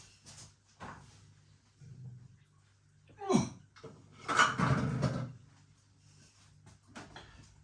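Scattered clatters and bumps of cats knocking objects about indoors on a rainy day, with a sharp knock and a longer rattling tumble in the middle, some faint voice nearby.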